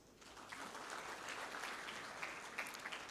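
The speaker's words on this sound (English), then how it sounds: "I request that we put our hands together for the launch that is going on." Audience applause at the launch of an access to justice sub-programme, a steady, fairly distant wash of clapping from a room full of people that holds evenly for the whole stretch.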